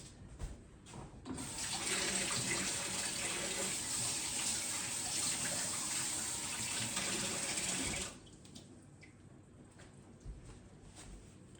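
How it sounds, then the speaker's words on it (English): Tap water runs steadily for several seconds to rinse a chocolate-covered spoon, a close hissing stream that starts abruptly and stops, with quieter handling sounds before and after. "before I take my spoon that has a chocolate, I'm just going to rinse it off"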